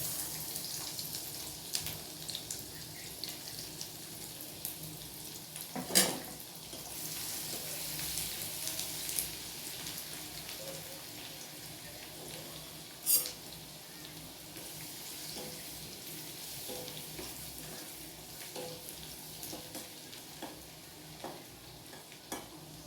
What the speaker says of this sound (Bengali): এবার আমি তেলের মধ্যে এই রসুনগুলো দিয়ে দিচ্ছি